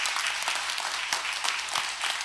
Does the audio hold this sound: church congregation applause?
yes